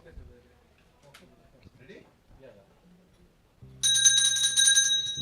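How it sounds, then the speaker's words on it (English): A bell rings to signal the start of a medium tour round at an equestrian show jumping league event, a loud sustained ringing that begins partway through after quieter background commentary and crowd noise. "The bell is given."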